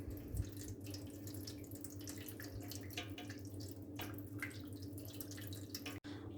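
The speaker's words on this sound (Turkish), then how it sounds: "Şimdi bunların böyle yarısına gelecek kadar su ilave edeceğim." Water poured into oven dishes sitting on a baking tray, a soft continuous trickling and splashing close by with no talking.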